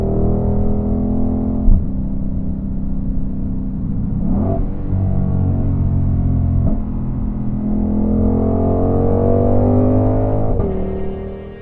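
Ford Mustang GTD, a 2025 road-legal track car with an 800 hp engine, holding a deep steady rumble that swells and revs across the stretch, with a few sharp shifts in pitch, loud and close.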